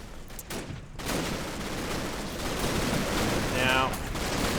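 Howitzer high-explosive shelling in Combat Mission Battle for Normandy, a dense rumbling roll of explosions and crackling fire, steady and loud throughout, with a short whining tone near the end and voices faintly underneath.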